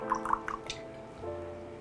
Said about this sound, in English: You pour it in a glass.